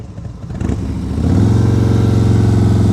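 Motorcycle engine during slow-speed riding practice, starting with a loose clatter and then settling into a loud, close, steady low throb as the bike rolls along.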